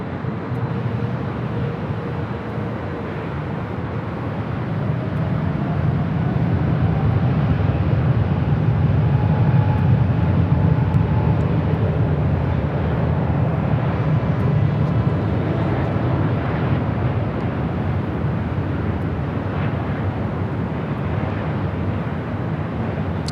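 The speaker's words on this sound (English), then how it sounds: "Mexico Dreamliner heading back to Mexico City" Aeromexico Boeing 787 Dreamliner jet at LAX, a steady loud broadband roar with a low rumble, swelling slightly mid-way and holding continuously, heard from a distance outdoors with no talk.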